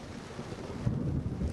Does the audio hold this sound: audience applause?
no